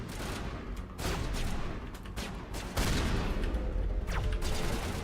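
Shotgun fire in Mass Effect sounds as loud, close blasts roughly every second and a half, layered over constant rumbling combat noise.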